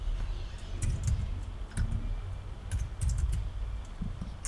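Keys clatter on a computer keyboard in quick irregular bursts of typing, close and moderately loud, with no speech.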